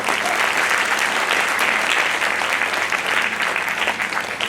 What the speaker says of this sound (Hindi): मैं चाहता हूं आप सारे लोगों के लिए एक बार जोरदार ताली।